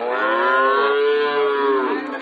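At the Ambari cattle market, a Sahiwal bull gives a single long, loud moo close by. The call is resonant and wavering and slides gently in pitch over about two seconds.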